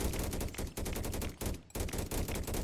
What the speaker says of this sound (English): you'll notice the fire rate on the turrets is such that they do clear arguably faster